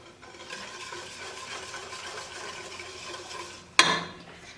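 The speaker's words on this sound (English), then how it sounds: "I just want to keep scraping the sides of this pan because of the sugar." A spatula scraping the sides of a pan of cooking fudge sugar mixture, a steady soft rasping stir close by, ending with a sudden louder clatter near the end.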